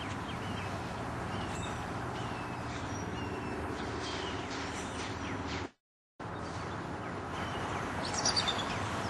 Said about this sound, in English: It's the sounds of the birds that you first notice in the early morning in the Everglades forest